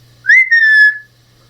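A person whistles a single rising then sustained call, imitating a father's signal whistle used to call family back; one clear, loud note held for under a second, alone.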